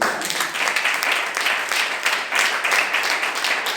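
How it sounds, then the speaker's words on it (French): Sustained applause and cheering from a church congregation during a French-language worship service, dense and steady throughout at moderate volume with no pauses. "tu m'as donné une acclamation qui est digne d'une acclamation pour Charles Bourg"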